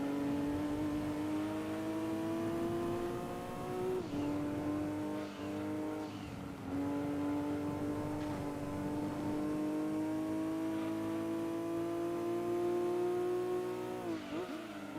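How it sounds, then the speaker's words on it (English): A Nissan Mosquito race car engine from Gran Turismo 2 drones steadily at high revs for the whole stretch, its pitch climbing slowly with brief dips at gear changes, loud and continuous with no talk. "Good old GT2 Mosquito engine sounds."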